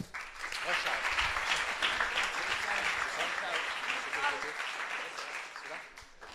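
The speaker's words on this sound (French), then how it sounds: "Et on applaudit et on envoie du courage à Rushow." Audience applause at a French startup pitch night as the next team is welcomed, dense continuous clapping from a crowd with a murmur of voices mixed in, holding steady before easing off.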